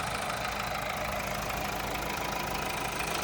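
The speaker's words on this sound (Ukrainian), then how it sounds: "Двигунчик працює просто ідеально" A Mazda CX diesel engine with AISIN automatic transmission idles steadily up close, a continuous low rumble with a faint rhythmic knock, no voices.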